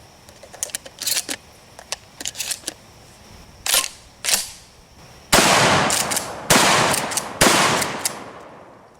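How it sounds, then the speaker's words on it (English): A shotgun fires 3-inch Federal premium double-aught buckshot loads outdoors, several sharp loud blasts spaced irregularly, the later shots heavier and followed by decaying echo. "Now we're going to try some double-aught buck 3-inch premium Federal loads."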